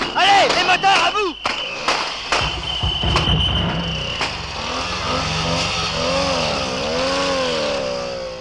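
Car engines roar loudly during a chase through a police roadblock, swelling and fading as the vehicles rush past. Shouting voices, bangs and dramatic music play over the engines.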